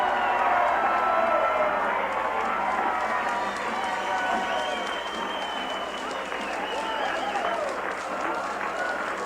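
An election night crowd in a packed room, loud continuous applause and cheering, dense and close throughout with voices mixed into the roar.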